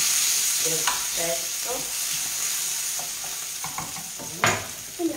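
An anchovy fillet melting in a hot frying pan, a steady bright sizzle with a few stirring scrapes, with brief speech over it.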